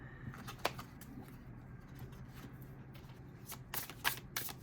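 Tarot cards from a very heavy, dense deck being shuffled and drawn: soft riffling and sliding card sounds with a few sharper snaps, close and quiet, no talking.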